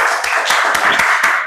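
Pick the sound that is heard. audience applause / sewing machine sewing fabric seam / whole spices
audience applause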